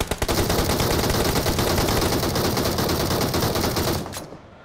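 Rapid automatic gunfire in a video game shooter, a dense continuous burst of close, loud shots that ends abruptly near the finish, leaving quiet background.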